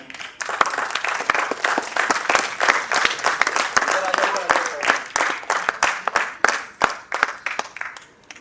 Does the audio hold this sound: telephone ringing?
no